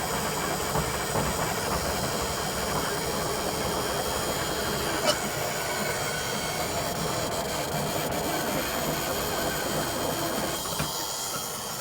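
An abandoned tow truck's engine cranks and struggles to catch, a steady, loud, continuous mechanical churn with a sharp click partway through and no talking.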